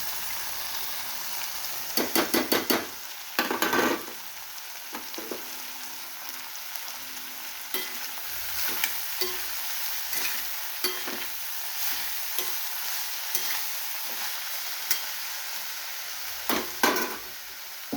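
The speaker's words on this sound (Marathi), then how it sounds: "आता शिमला मिरची आणि टोमॅटो सोबत टाकू." Capsicum and tomato sizzle in a pan for a potato and capsicum vegetable dish, with a steady frying hiss broken by bursts of scraping and clattering as the spoon stirs, loudest early and again near the end.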